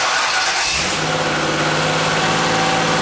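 A Ford Escape off-road build's engine cranks and catches, rising briefly, then settles into a loud, steady idle hum close by.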